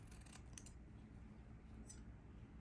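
Scissors snip close up through a quilted fabric carrot tip, giving a few faint, quick cuts in a quiet room.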